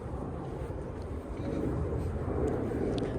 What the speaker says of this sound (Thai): ได้ยินเสียงเครื่องบิน